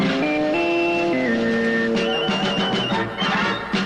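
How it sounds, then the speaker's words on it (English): The CBS Radio Sports signature signal is a short electronic tone sequence of stepped pitches, followed by a brighter burst of pulsing texture, heard clearly over a busy broadcast-style background. "Our sports signature sounds like this."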